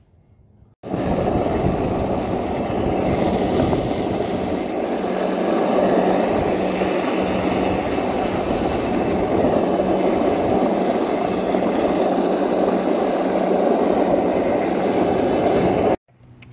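Loud, steady roar of a dual-motor electric skateboard driven by propellers while being ridden, a continuous whirring drone that starts abruptly and holds for about fifteen seconds before cutting off.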